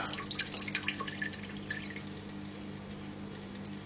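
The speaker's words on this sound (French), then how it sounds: "Voilà un joli goutte à goutte." Water from the tap of an aquarium acclimation drip kit falling into a bucket, a quick run of distinct close drips in the first half that thins out to a steady background hum with a single drip near the end.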